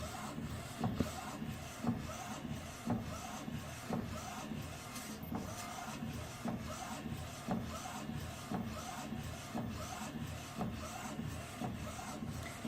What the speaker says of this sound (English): So the machine will start white ink first,